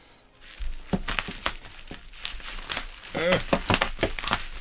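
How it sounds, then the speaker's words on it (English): Scissors snip through packaging around a DIN rail housing, producing a series of sharp crinkling cuts and rustles, close and fairly loud, with a person talking briefly in between. "So this is time for the scissors."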